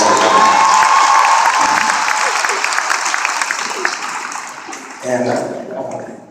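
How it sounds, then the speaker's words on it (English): Crowd at a cup stacking tournament applauding a helper, loud clapping with some cheering that gradually thins out, then a voice briefly speaks near the end. "give this guy a round of applause for coming"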